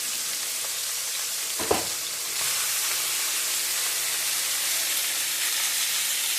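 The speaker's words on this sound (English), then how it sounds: "you're going to want to stick your chuck roast in the skillet." A chuck roast searing in a hot skillet for pot roast, a steady loud sizzle with a brief bump as the meat settles, then a continuous frying hiss.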